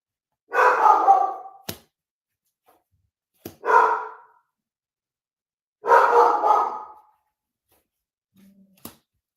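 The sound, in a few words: dog barking at banging outside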